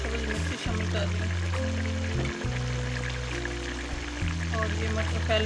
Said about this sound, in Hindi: और ये मटर पहले पके हुए हैं ये शामिल कर रही हूँ।